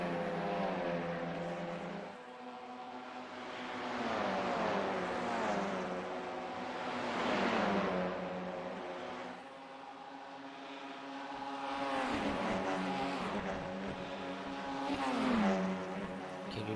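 Audi RS 3 LMS race cars lapping Bathurst in iRacing, engine notes rising and falling in long sweeping pitch glides as they pass through corners, several cars audible in turn with no talk over them.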